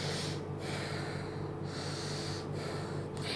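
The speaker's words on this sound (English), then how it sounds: "Breathing means taking air inside or inhale, or giving air out like this" A person breathes in and out slowly and steadily at close range, a sustained airy rush of inhaling and exhaling with brief pauses between breaths, set against a constant low background hum.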